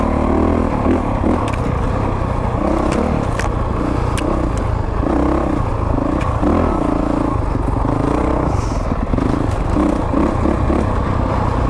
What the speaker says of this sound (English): Just let this bike roll.